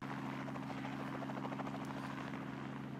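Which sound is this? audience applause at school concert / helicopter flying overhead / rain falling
helicopter flying overhead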